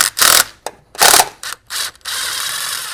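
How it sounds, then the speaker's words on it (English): A ratchet on a long extension works a 10mm bolt out of a Mini Cooper R-series engine bay, giving several bursts of loud, close, rapid clicking separated by short pauses, then one long continuous clicking run. "I'll put a super long extension on it to get it out"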